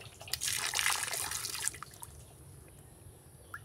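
Water runs and splashes in a steady stream for drinking, bathing and washing, a bright hissing gush strongest early on, then thinning to quieter trickles and scattered drips.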